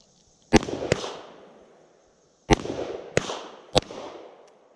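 Five sharp 9mm pistol shots crack out at an outdoor shooting range, two closely spaced, then a pause before three more, each followed by a ringing echo tail.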